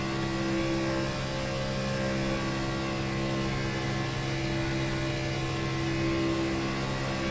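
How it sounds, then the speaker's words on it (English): Race cars in a superspeedway racing video game pull out of the pits, a steady droning engine hum with layered tonal whine holding constant throughout, no talking. "you'll see next group of cars here kind of exiting the pits right here"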